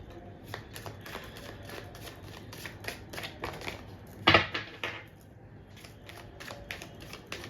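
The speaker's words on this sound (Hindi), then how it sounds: "जब तक मैं कार्ड शफल कर रही हूँ" A deck of tarot cards being shuffled up close, a long run of crisp riffling flutters with one sharper louder burst midway, then softer card handling, no talk.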